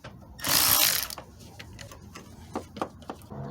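A wrench loosens the 10mm nut on the negative battery cable of a 2011-2020 Toyota Sienna, giving a sharp ratcheting burst followed by a few soft, scattered clicks, close and fairly quiet.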